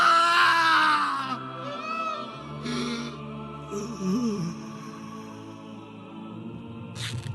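A loud, dramatized scream for the dying cry of Jesus on the cross, opening strong and anguished before trailing off into groans and softer vocal sounds over a background music bed.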